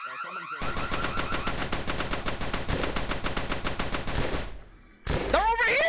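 Automatic gunfire in the VRChat prison escape game: a long, fast, loud burst of rhythmic shots lasting about four seconds, then a pause and a different electronic sound.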